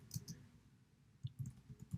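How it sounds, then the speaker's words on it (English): Mouse clicks while selecting text boxes in a Poll Everywhere question form: a quick pair of crisp clicks, a short pause, then a denser run of several sharp clicks, close and fairly quiet with no talk. "Clicking in each one of those text boxes,"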